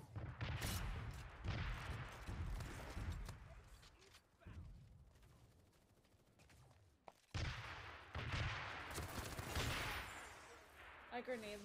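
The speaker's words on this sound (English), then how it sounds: "I grenade launched them." Grenade launcher fire in the online shooter Cyber Hunter: dense, rumbling bursts of explosive gunfire and booms, a quieter lull in the middle, then another loud burst of battle noise.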